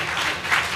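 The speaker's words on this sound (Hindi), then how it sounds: "एक बार हरमिंदर के लिए तालियां बजा दो" Audience applause at a Hindi comedy poetry (hasya kavi) stage show, a short steady burst of clapping from a crowd.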